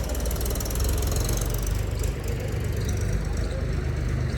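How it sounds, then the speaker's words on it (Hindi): A tractor engine runs steadily somewhere in a quiet village, a continuous rough low rumble with no pauses and no voices. "पीछे से ट्रैक्टर की आवाज़ आ रही है।"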